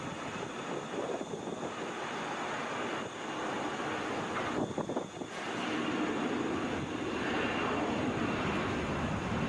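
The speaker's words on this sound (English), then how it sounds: "This is United 6246 coming from Houston on an Embraer E175 LR." United Embraer E175 LR regional jet at Atlanta International Airport, a distant, moderate engine rumble mixed with wind buffeting, growing slightly stronger toward the end.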